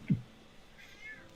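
A house cat gives one short meow, then a fainter drawn-out mew a moment later in a quiet indoor room.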